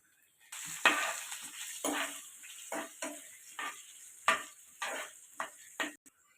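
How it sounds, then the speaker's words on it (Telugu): Curry leaves sizzle in hot oil with dried red chillies, chana dal, urad dal and crushed cumin, tempering for a mint chutney; a steady crackling hiss with repeated sharp bursts as spoon stirs the pan, no talking. "ఒక కరివేపాకు రెమ్మ,"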